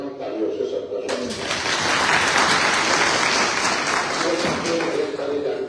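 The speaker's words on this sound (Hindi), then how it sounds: "तालियों से सबका स्वागत।" Applause from a gathering breaks out after a man's spoken welcome, swelling into steady, dense clapping from many hands that carries on for several seconds before a voice returns over its tail.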